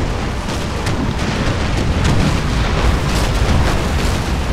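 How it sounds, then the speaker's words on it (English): Massed cannon fire in a historical battle video game with a smoke and blood mod, a dense, continuous rumble of overlapping booms and blasts, loud and unbroken with no talk. "The effects that it adds along with the cannon noises just make this a much more epic experience"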